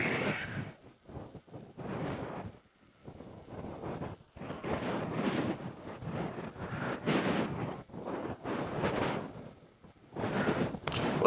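Wind buffets a microphone mounted inside a helmet mouthpiece while driving up the Mount Washington Auto Road, a loud, gusty rumble that comes in waves and briefly drops out.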